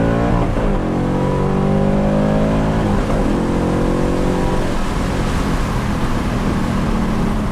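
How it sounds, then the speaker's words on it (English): A Ford Mustang exhaust with a resonator delete revs loudly and steadily, the deep engine note rising and falling several times with no talking. "We got a resonator delete that they put on the car."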